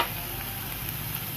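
Chopped vegetables, including capsicum, onion, tomato and chilli, fry in a pan for a snack filling, giving a steady low sizzle and crackle that stays fairly quiet and even throughout.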